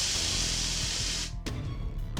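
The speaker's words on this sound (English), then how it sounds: "I leap into action, emptying a bottle of pepper spray I was concealing in my pocket around the corner of the alleyway." A bottle of pepper spray is emptied as a video game sound effect: a loud, steady hissing spray runs for over a second, then breaks into short, sputtering bursts.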